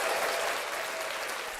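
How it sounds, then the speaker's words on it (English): Brief studio applause on a local morning TV show in Cookeville, a small group clapping steadily and fairly close, fading slightly as it ends. "How about some applause?"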